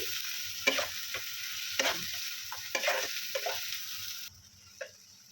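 Chicken with chili powder stirred in a pan for a Bengali sesame chicken dish, steady sizzling frying with repeated scraping strokes of a spoon close up, no talking.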